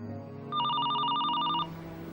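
A telephone rings once with a bright electronic trill lasting about a second, over a low background hum.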